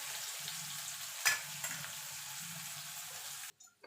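Bitter gourd fries in oil with a steady crackling sizzle and a low bubbling undertone, broken by a couple of light utensil clicks, before the sound cuts off abruptly near the end.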